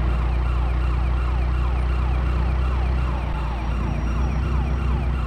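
Ambulance siren from the GTA Chinatown Wars video game, wailing loud and continuous with a steady repeating sweep, close up and alone with no talk.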